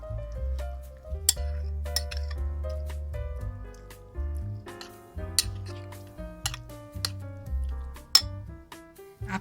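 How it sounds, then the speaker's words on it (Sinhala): A spoon stirs a chocolate bread pudding mixture in a bowl, giving soft squelching and occasional light clinks against the dish, heard close and mostly faint under a quiet musical backdrop. "හැන්දෙන් හොඳට හැඳි ගන්න"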